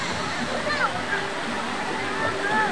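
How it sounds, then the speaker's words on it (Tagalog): Balite Falls in Amadeo roars with a steady, broadband rush of cascading water, heard close and loud throughout, with a voice faintly speaking underneath. "This is Balite Falls."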